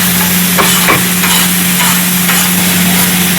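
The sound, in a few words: sautéing cabbage and capsicum in oil for kothu parotta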